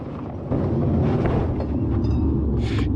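A race car crash in a tight pack of cars, a sudden loud roaring rumble of engines and impact noise that keeps up steadily, with a short rattling burst near the end.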